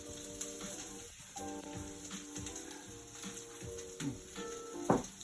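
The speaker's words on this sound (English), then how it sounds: "So we're gonna saute this for a little bit, get it nice and going." Meat sautéing in a pan, a steady soft sizzle with occasional stirring scrapes and a sharper clatter near the end, fairly quiet and with no talking.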